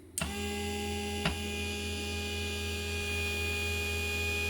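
A small machine hums steadily with a low mains-like drone after a couple of sharp clicks at the start, running quietly and evenly.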